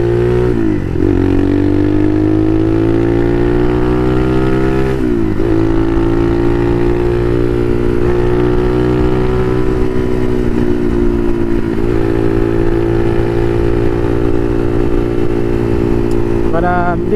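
A Chinese-made Motomax 250 motorcycle engine hums steadily while riding and idling, its pitch shifting with a few brief gear changes, loud and close throughout with wind noise.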